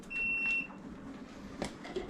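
A homebrewing timer beeps during a beer boil: a short, thin electronic beep near the start, heard faintly over a steady background hum in a quiet room.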